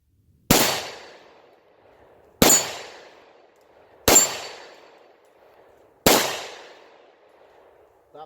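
A Bond Arms Bullpup pistol fires Silvertip ammunition at a shooting range. Four sharp, loud shots come spaced about two seconds apart, each with a ringing, fading tail.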